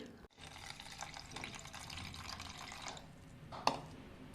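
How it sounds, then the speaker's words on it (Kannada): Rice rinse water splashes out in a steady stream for a few seconds, then stops, followed by a brief clink of a vessel. "ಮೊದಲ ಸರಿ ತೊಳೆದ ನೀರನ್ನು ಚೆಲ್ಲಬೇಕು"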